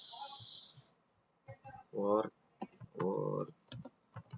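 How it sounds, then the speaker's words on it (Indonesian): Password typed on a computer keyboard during a Cisco networking session: a few short bursts of key clicks alternate with someone speaking close up, the typing light and brief between his words. "Kita ketik password"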